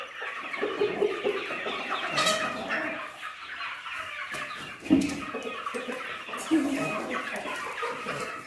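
Several chickens cluck and squawk close by in a steady jumble, with a couple of louder calls breaking out near the end.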